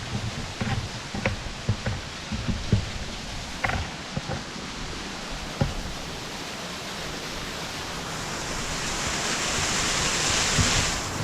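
The Onti waterfall in Coorg gives a broad, steady wash of falling water. Scattered knocks and rustles come early on, and the roar grows slightly louder and brighter toward the end.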